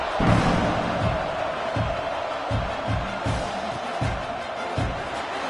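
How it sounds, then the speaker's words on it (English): A packed college football stadium crowd at Oklahoma State versus Oklahoma roars loudly and continuously before kickoff, a dense wash of cheering with rhythmic pulses, likely chanting or drumming, throughout. "They're set to kick it off, and this crowd now ready to get behind them."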